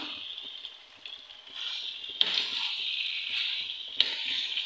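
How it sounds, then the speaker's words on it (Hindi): Spaghetti chicken biryani being stirred and mixed with spices in a hot pan, a continuous close sizzle with occasional sharp scrapes and clicks of the spoon against the pan. "अच्छे से मिक्स कर दें ताकि सारे स्पाइस इसके अंदर अच्छे से मिक्स हो जाएं"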